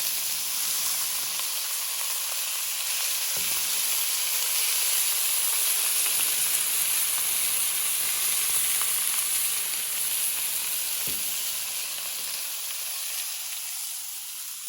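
A big piece of beef sizzles on an outdoor grill in an outdoor kitchen, a steady loud hiss with a couple of brief sharp pops, heard alone without talk.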